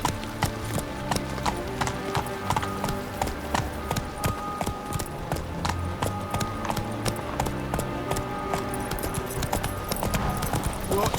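Rapid hoofbeats of a galloping horse in The Witcher 3 keep a steady clip-clop rhythm throughout, under continuous game music, with voices speaking at times.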